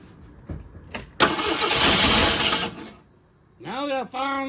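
A 1988 Eagle car engine cranks briefly, catches, and runs roughly for about two seconds before dying. Someone speaks just afterward.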